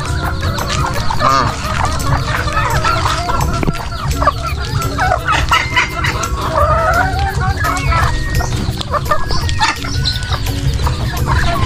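A small backyard chicken coop at breeding season, where a flock of hens clucks and squawks continuously, close and loud, with overlapping calls throughout.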